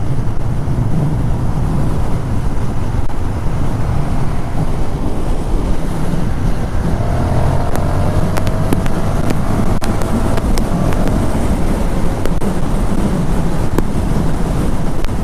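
A KTM 1290 Super Duke R motorcycle rides at speed, with loud, continuous engine roar and heavy wind rush throughout.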